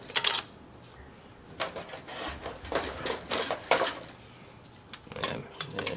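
Metal brake plates being set into place one after another while reassembling a spring-applied brake, giving several separate clinks and scrapes, some sharper than others, close by with short quiet gaps between them.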